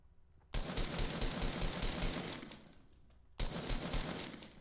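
Rapid automatic gunfire in the video game Fortnite rattles in two loud bursts, the first lasting over two seconds and the second after a short pause.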